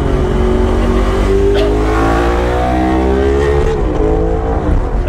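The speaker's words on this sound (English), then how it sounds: "a very loud something beside us. Motorcycle." A loud engine revs close by, its pitch climbing and shifting in a drawn-out roar that fills the whole stretch.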